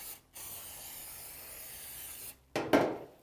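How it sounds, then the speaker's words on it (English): Aerosol contact cleaner hisses in a long steady burst into the cylinder of a 2019+ Kawasaki KX450 engine, then pauses, followed by a shorter, louder spray blast. "I'm actually going to spray it out with some contact cleaner"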